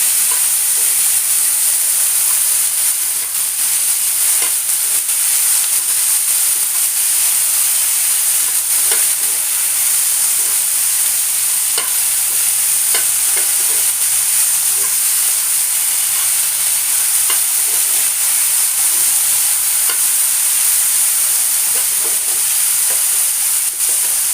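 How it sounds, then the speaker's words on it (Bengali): Banana peels stirred and fried in a pan, a loud, steady, hissing sizzle held throughout with faint scraping taps from the spatula and no talk. "দেখুন কলার খোসা দিয়ে দিচ্ছি এবার আমি এটা ভালো করে নেড়ে তুলে দেবো"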